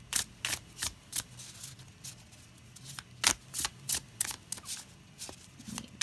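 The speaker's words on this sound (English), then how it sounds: "people just, you know, like to see cards shuffle" Tarot cards are riffled and shuffled in quick bursts of crisp flicking, repeated several times with short pauses, close and fairly quiet.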